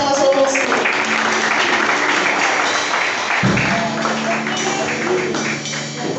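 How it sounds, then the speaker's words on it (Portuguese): A church congregation claps together at an evening weekday worship service, dense steady applause filling the room for several seconds, loud and close, with no break. "E as palmas ao Senhor"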